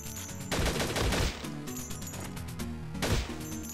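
A turret firing at zombies in the game Infectonator: Survivors, two dense bursts of rapid automatic fire over looping game music.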